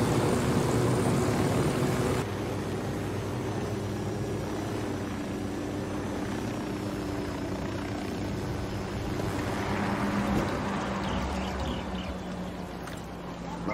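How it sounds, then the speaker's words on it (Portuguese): A cartel airplane's engine in the video game Ghost Recon Wildlands runs as a steady, rumbling drone that continues through the whole stretch, with a slight shift in tone partway through and no voices. "O avião está abastecido e pronto para ir."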